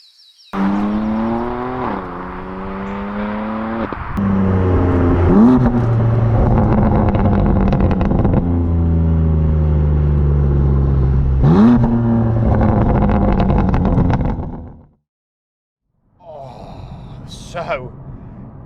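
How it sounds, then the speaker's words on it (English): A BMW M3 CS accelerates hard, its engine note rising through gears in repeated sweeping pulls with loud revving, then cutting out abruptly into near silence before resuming faintly. "I'm itching to take it for a spin."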